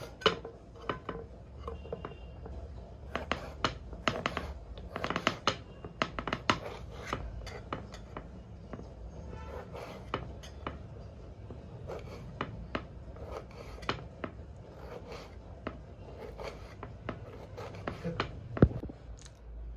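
A knife chops onion on a cutting board in a home kitchen, giving a long run of sharp, irregular taps, some in quick bursts, close and fairly quiet over a low background hum.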